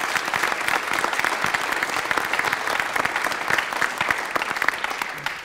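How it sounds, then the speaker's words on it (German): Audience at an energy briefing on synfuels applauds the PSI organizing team, a steady, dense round of clapping that continues evenly for several seconds without talk. "Gebt einen Riesenapplaus für euch."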